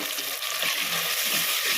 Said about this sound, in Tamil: இது ரெண்டுமே வெங்காயம் தக்காளியும் போட்டு வதக்கிக்கலாம்